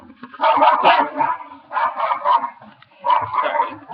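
A small dog barks in three bursts of quick yips, close to the microphone, with brief pauses between the groups.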